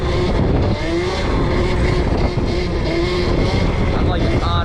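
An old dirt bike converted to electric power rides along a small street, its motor giving a loud, continuous whine that rises and falls in pitch with throttle changes, mixed with heavy wind buffeting and road noise.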